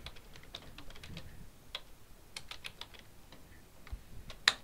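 Keys on a computer keyboard tap in quick, irregular bursts, soft and close, with a sharper final click near the end and no talk.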